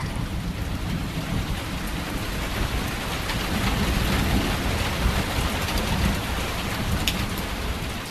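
Heavy rain falls steadily in Bandung, a dense, even hiss on surfaces that continues unbroken from start to end, with no voices.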